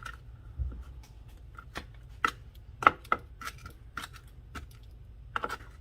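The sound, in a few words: knife chopping cilantro on a cutting board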